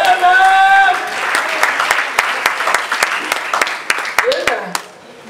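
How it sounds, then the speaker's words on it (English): A church congregation claps hands together in a dense, lively burst after a voice fades out, the applause thinning into scattered separate claps and a few voices before dying away. "Let's give God a hand clap."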